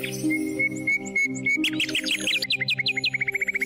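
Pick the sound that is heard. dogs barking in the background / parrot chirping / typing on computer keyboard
parrot chirping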